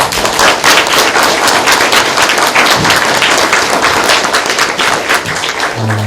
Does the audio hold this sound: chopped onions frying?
no